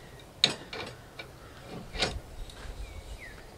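A large tap cutting threads into a hole gives faint, sparse metallic clicks and creaks as it is turned by hand, with a few louder ratcheting knocks and no speech.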